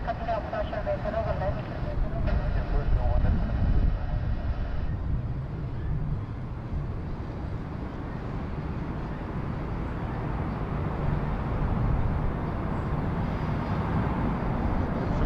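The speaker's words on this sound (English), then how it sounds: "Here comes our Go Air A320 now." A Go Air Airbus A320 arrives at Bangkok airport, its steady jet roar filling the whole stretch at a constant distance, with talk running over it throughout.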